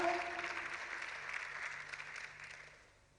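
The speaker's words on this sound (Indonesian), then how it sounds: "Tepuk tangannya balik meriah." Church congregation clapping during a sermon, a fairly faint, lively patter of hands from a group that fades away over a few seconds, with a brief voice at the very start.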